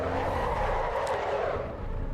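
Sports car engine over-revving after a hasty downshift in the Assetto Corsa Evo racing game, a steady loud roar with tire skid noise as the rear end slides, continuous for about two seconds.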